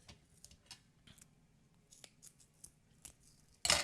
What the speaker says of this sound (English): I need to clean those scissors.